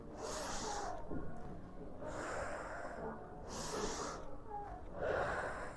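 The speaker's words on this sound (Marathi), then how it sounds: "श्वास सोडला" Forceful breathing during a gentle standing exercise routine, with about four close, airy exhalation bursts repeating at a slow, regular pace and quieter gaps between them.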